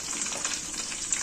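Henna leaves hit hot oil for a homemade herbal hair oil, giving a steady, bright, close sizzle with crackling spits throughout and no voices.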